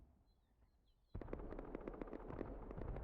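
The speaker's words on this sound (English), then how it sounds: "I can already hear the explosions going off." Explosions and gunfire during a raid in the video game Rust, a quiet stretch that breaks into a dense, continuous barrage of distant blasts and rapid shots.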